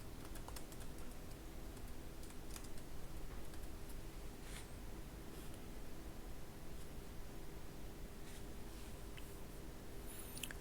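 Quick, light keystrokes on a computer keyboard tap out a search in a software center, faint and close over a steady background hiss, with no voices.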